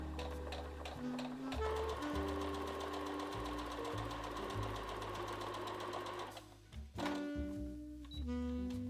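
A sewing machine hems pant legs in long, close runs of fast, even stitching, with a brief pause near the end before it starts stitching again.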